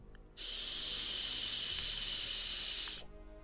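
In the Gothic 2 mod Legend of Ahssûn, a loud steady steam hiss starts abruptly, holds evenly for a few seconds, then cuts off, with no voices over it.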